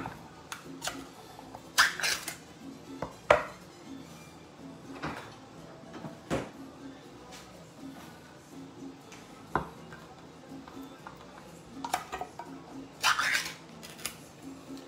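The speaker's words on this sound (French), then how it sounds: "on prend 2 boîtes de tomates pelées" Two cans of peeled tomatoes tipped into a saucepan for chili con carne, with scattered clanks, metallic taps and soft plops of tomato landing in the pan, close and irregular over a quiet kitchen background.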